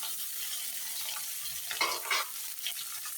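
Fish head and ginger fry in a pan with a steady, close sizzle, broken by a few louder bursts of crackling as the pieces are moved around.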